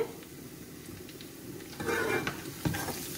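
Garlic and onion frying in a pan for a Bangladeshi beef and potato curry, a soft steady sizzle with occasional stirring scrapes that swell louder partway through.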